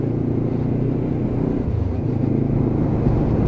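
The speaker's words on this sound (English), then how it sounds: "you can just hear the grunt of that engine as well" A Lexmoto LXR 380cc motorcycle engine idles and rumbles steadily nearby, with a deep, throaty exhaust note.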